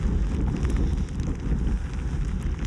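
Rain falls steadily outdoors on a roebuck hunting outing, a dense continuous patter with wind noise that stays even and close throughout, no voices over it.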